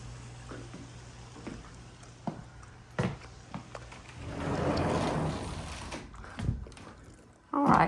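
A sliding door rolls along a worn track with rollers that need replacing, giving a rough rumbling slide of a few seconds between scattered knocks and clicks, with a louder bump near the end.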